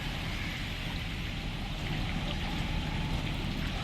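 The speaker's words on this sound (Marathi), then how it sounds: "नवी मुंबईतही पावसाचा जोर कायम आहे" Heavy monsoon rain pours steadily in Mumbai, a loud continuous roar of water hitting surfaces, with no voices.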